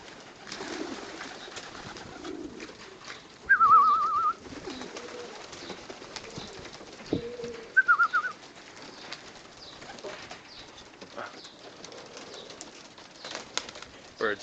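Young racing pigeons coo in a loft, two clear bursts of cooing rising above a low, steady background of soft bird rustling and wing movement.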